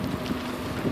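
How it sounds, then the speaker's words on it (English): Steady wind during a nor'easter snowstorm in New York City, a constant broadband rush buffeting the microphone, with no voices and no breaks in the roar. "The wind, it's pretty windy, it's all coming on steady."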